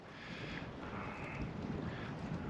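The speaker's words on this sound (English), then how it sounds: "There's a little gust right here." A gust of wind buffets a GoPro 9 fitted with the Media Mod directional mic, pointed north into the wind outdoors: a steady, low, rumbling roar of wind noise with no voices.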